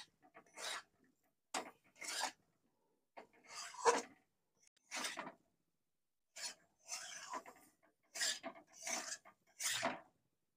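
A spoon scrapes through fried eggplant and spices in a pan, giving about nine short, irregular stirring strokes close by with quiet gaps between them.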